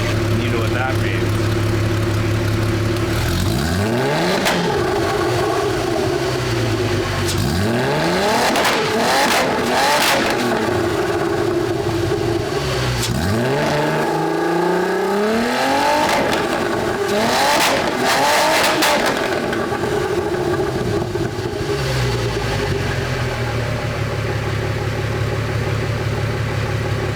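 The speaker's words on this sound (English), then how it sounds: "I've revved it up a few times" A modified Honda car engine revs repeatedly, rising and falling in loud sweeping bursts over a constant idle rumble, with a voice talking now and then.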